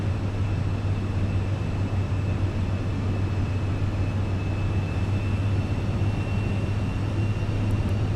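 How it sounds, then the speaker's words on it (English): Steady low drone of an airliner's engines taxiing toward the runway in Microsoft Flight Simulator 2024, leaving Hong Kong for Taipei, a constant heavy rumble with a faint whine above, continuous and unchanging throughout. "Taxi us down to the beginning of the runway."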